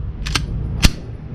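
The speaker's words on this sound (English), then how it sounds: "Mag seated in there." A Springfield Hellcat Pro or Canik TP9 Elite SC pistol takes its magazine with a couple of quick light clicks followed by one firmer, louder click as it seats, close by and with no voices.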